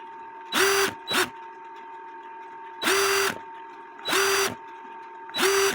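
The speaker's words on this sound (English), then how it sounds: "Toothpick in my drill." A drill spinning a toothpick whirs in short bursts, four or five spins with pauses between, close and steady in pitch, with a faint hum in between.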